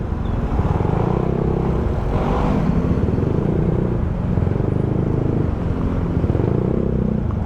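A motorcycle-with-sidecar tricycle rolls across a bridge at night, its engine a steady, continuous rumble that stays fairly loud and close the whole time, with no voices over it.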